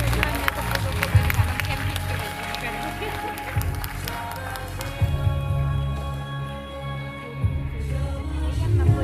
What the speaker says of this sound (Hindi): इन सफेद वर्दी वाले हीरोज के लिए एक बार सभी दोबारा जोरदार तालियां बजाइए